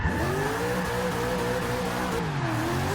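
A loud, steady V8 engine roar from a Mazda Miata in Forza 6 rises and falls in pitch as it revs, continuous throughout with no speech.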